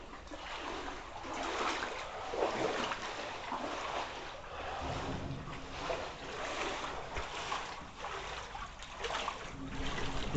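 Water sloshing and splashing through a flooded shop interior, a steady broadband wash of moving water with scattered splashes as someone wades through, fairly close and continuous.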